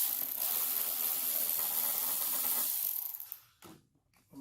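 A socket ratchet turns a bolt on a GM seat rail, a rapid, close mechanical clicking and rasping that runs steadily for about three seconds, then breaks into a few short bursts before stopping.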